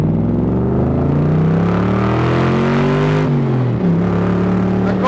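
A 1965 Shelby Cobra replica's engine pulls hard under acceleration while driving, a loud, steady rising growl with a brief dip and recovery as it shifts, close and alone without talk.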